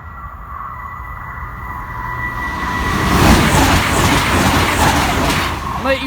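A train rumbles past the Church Lane level crossing, growing louder and nearer midway with rushing wheel noise, while a steady crossing alarm tone sounds underneath.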